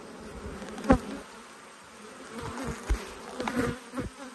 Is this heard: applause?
no